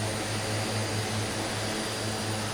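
Steady aircraft engine drone just after takeoff in Microsoft Flight Simulator 2020, a continuous close hum with a low tonal throb and broad hiss, unchanging and without talk.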